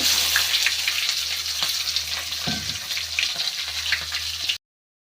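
Curry leaves, crushed garlic and onions frying in oil with dried red chillies: a loud, steady, close sizzle with occasional stirring knocks, then a brief cut to silence near the end, no talk.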